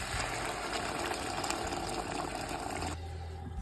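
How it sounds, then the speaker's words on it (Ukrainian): Hot water gushes steadily into a soup pot in a home kitchen, a dense continuous splashing pour that stops abruptly near the end, leaving a low hum behind. "тепер заливаємо це гарячою водою"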